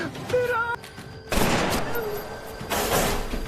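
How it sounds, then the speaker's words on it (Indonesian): Sharp broadband bursts of pistol gunfire ring out in a volley, loud and close, over a dramatic soundtrack with a brief tonal passage. "muncul si bos yang dengan bencinya terus menyerang Santo menggunakan pistol"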